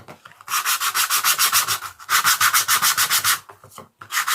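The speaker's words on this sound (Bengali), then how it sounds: "এখানে আমি সিরিজ পেপার দিয়ে ভালোটি করে ঘষে নিয়েছি" Sandpaper scrubs back and forth over a small surface in quick, even strokes, about four per second, loud and close, in two bursts with a short pause between.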